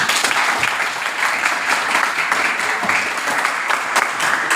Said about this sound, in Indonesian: silakan beri tepuk aplaus dulu